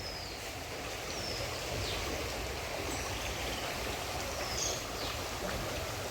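A steady, dense roar of the swollen, muddy Ganges rushing at Haridwar after mountain rains fills the whole clip, constant and broad, with faint high chirps briefly cutting through.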